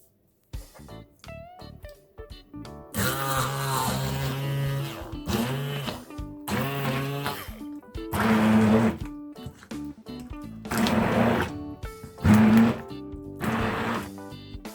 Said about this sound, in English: with the vertical blender, I am going to mix this